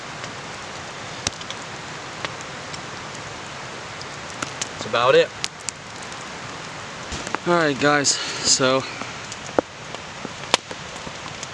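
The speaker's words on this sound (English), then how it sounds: "it is really hammering the snow down right now, and possibly even some rain" Rain and snow from an ice storm patter as a steady hiss at a winter bushcraft shelter, with someone talking briefly over it and a few sharp cracks breaking through.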